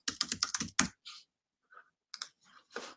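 Computer keyboard typing, a quick close burst of key clicks, a pause with a faint tap, then a few more scattered keystrokes.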